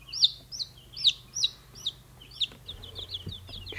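Chickens cluck and call in a series of short, bright squawks, close by, over a low background hum.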